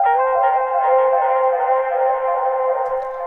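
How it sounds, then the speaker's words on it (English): A Waves Crate texture sample plays alone, a sustained harmonic drone with a guitar-like tone, steady and fairly loud for its full length with no voices. "To start with, we've got this Waves Crate texture"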